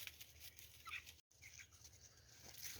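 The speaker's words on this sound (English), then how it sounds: "Look at all these happy birds having breakfast." Chickens feeding at breakfast, clucking and scratching around, soft scattered pecking and fowl calls close by, with a brief dropout partway through.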